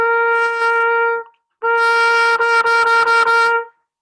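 A trumpet with strong harmonics plays a sustained note, pauses, then returns with a dull, tense, rough, wavering, pulsing texture before cutting off.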